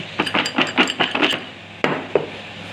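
Popcorn being stirred and tossed in a pan after a sprinkle of cheddar cheese masala, a quick run of rhythmic scraping, rattling strokes followed by a couple of isolated knocks, close by with no talk.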